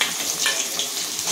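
Four large sliced onions go into hot oil with toasted cumin, a loud, close, steady sizzle with crackling spits that lasts just over a second, with no voices.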